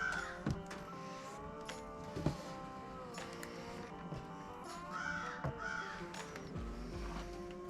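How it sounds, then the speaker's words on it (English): A crow cawing in the background outdoors, several harsh, repeated caws rising over quieter ambient sound, moderately distant. "Y'all hear the crow in the back?"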